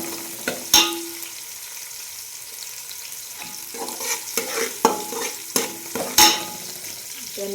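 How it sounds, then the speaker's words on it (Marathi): Capsicum frying in a large pot, a soft background sizzle punctuated by repeated sharp clinks and scrapes of a spoon stirring against the metal, several knocks spread across the stretch. "तिथे शिमला मिरची टाकली आहे आणि ती पण छान अशी तळून घ्यायची आहे आपल्याला."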